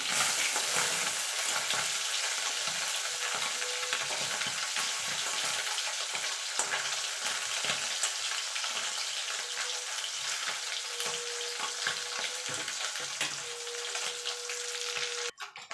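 Small mourala fish, just flipped, keep frying in hot oil with a loud, continuous close-up sizzle and crackle, broken near the end by a brief clatter.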